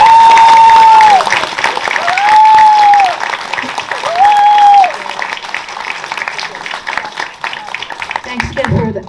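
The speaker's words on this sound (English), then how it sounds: "let's just give them another round of applause." A film festival audience applauds the panel after a Q&A for the Chinatown documentary "Love, Chinatown". Loud, sustained clapping fills the room throughout, with brief steady tones riding on top, and it thins out toward the very end.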